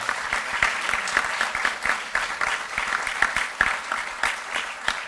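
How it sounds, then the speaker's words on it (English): A modest audience at an employability panel event claps for the panelists, scattered individual claps standing out within steady applause that continues throughout at a moderate level. "please give an applause for them"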